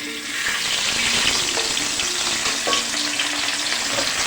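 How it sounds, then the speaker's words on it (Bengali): A piece of fish sizzles steadily in hot oil in a pan, a close, continuous crackling fry with no voices. "এই যে একটা মাছের পিস তুলে নিলাম, এবার এইটাকে এখানে আস্তে করে আমি"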